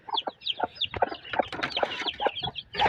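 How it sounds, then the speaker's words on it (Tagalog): Chicks peeping and clucking close by, a rapid run of short high chirps and soft clucks overlapping in irregular bursts. "Itong mga sisiw."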